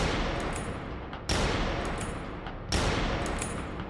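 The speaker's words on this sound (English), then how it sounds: "God, were those shots?" Gunshots in the point-and-click game Kathy Rain 2: two loud, sudden blasts about a second and a half apart, each followed by a sustained noisy tail, with no talk over them.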